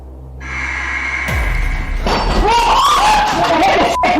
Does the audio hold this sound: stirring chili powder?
no